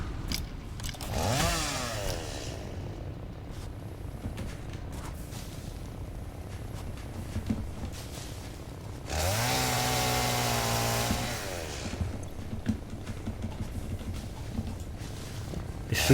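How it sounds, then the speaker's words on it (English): A chainsaw cuts down trees in the factory-building game Satisfactory, with a short rising rev early on, then a longer loud buzzing cut that pitches down before dropping away to quiet ambient hum. "So let's get that and equip our chainsaw"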